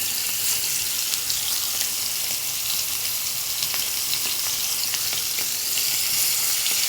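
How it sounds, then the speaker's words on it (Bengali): Fresh helencha greens cooking in a pan after pangas fish was fried, giving a steady, close, even sizzle and crackle throughout with no talk. "মাছ ভাজিটা হয়ে গেলে সকালবেলায় শাকটা উঠায় এনে রান্না করা হচ্ছে।"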